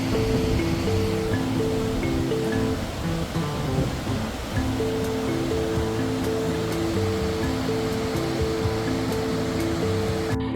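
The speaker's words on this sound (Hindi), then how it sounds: "थोड़ी थोड़ी दूरी पर ही इस तरह आपको झरने भी मिलेंगे।" Mountain waterfall rushing beside a road among deodar trees near Kugti village, a loud continuous roar of falling water steady throughout.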